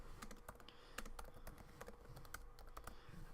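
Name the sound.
typing a command on a computer keyboard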